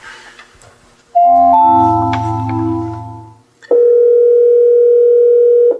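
A telephone in a hospital teleconference room gives a loud steady dial tone that breaks off, followed by a second long unbroken tone.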